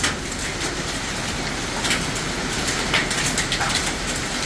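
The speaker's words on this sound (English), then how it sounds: "Big hail." Large hail hits during a tornado-warned storm near Gorman, Texas, a dense loud rattle with sharper scattered impacts, recorded up close with no voices.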